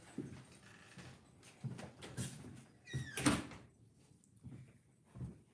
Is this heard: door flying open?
yes